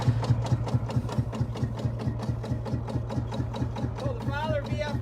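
A Fowler VF crawler tractor built in Gainsborough and Leeds, England, runs at a steady idle with a loud, even, rapid low thump throughout. A faint whistling tone rises near the end.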